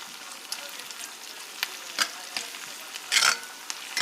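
Ginger garlic paste fries in oil for a spicy fish fry, making a steady low hiss of sizzling nearby, broken by a few brief bursts of stirring and one louder spattering flare.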